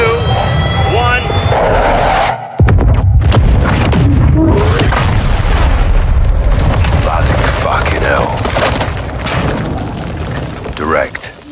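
An airstrike in a realistic military video game hits its target with a sudden heavy boom, followed by a long rumbling roar, debris and aircraft engine noise, while radio voices talk over it.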